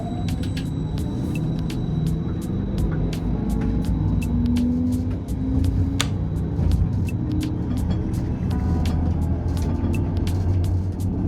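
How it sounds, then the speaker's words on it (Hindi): An electric tram in India pulls away and gathers speed, its steady low rumble and rising motor whine running continuously, punctuated by frequent rattling clicks and squeaks from the car and track, with no one talking. "अब थ्रॉटल को ऑन करके ट्रैम्स को शुरू करेंगे और इसी थ्रॉटल से ट्रैम की रफ्तार को भी"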